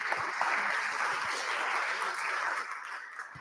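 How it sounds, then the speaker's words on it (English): Conference audience applauding a speaker, a dense steady patter of clapping held for about three seconds before starting to thin at the end, moderately loud and without talk. "So let's give him a round of applause."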